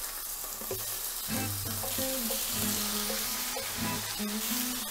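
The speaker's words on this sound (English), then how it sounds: "in the same pan with the same oil I'm going to add these slices of pork" Pork slices searing in hot oil in a pan over high heat, a constant close sizzle and crackle with a tonal hiss that rises and falls throughout.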